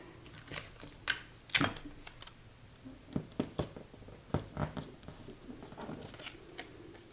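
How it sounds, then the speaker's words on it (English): Strips of adhesive tape pulled and pressed onto paper while assembling a lace-and-scrap pocket tag for a junk journal, heard as a scattered run of close, sharp tearing and crinkling clicks without talk. "And then this side I'm also simply going to tape."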